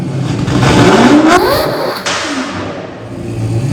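A supercar fitted with a Gintani exhaust system revs hard, its engine note climbing in a loud rising sweep, then a sharp crackling pop and a falling tone as it settles back, close and forceful.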